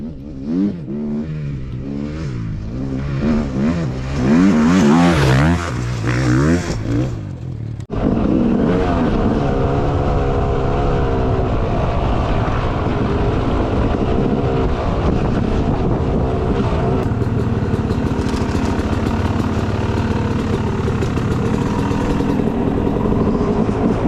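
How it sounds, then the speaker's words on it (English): A motocross dirt bike, freshly repaired and running well for Loretta Lynn's practice, revs and accelerates with rising and falling engine pitch, then holds a steady loud drone under heavy wind buffeting across the ride, with no talking. "The bike is back running great, so she is ready to rip for Loretta."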